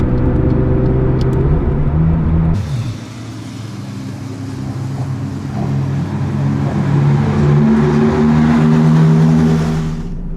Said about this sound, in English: we've dropped tyre pressure, so that's why it's making like a really weird, annoying noise right now